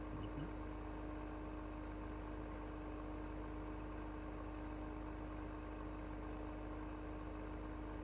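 A tractor engine idles in Farming Simulator 15, a constant low mechanical drone with a steady hum that holds unchanged throughout, with no talking.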